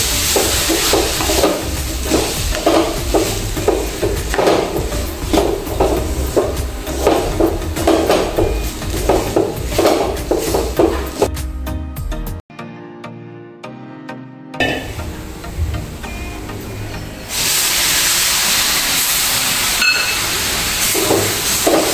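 Milk poured into a sizzling wheat flour mixture in a hot pan while making modak, giving a steady loud hiss and stirring scrape that briefly drops away, then returns as a bright, strong sizzle.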